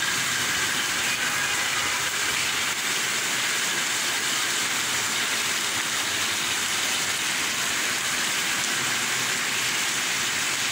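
Steady rain falls around a large south-facing balcony, a dense, even hiss that holds unbroken at constant loudness throughout with no voices.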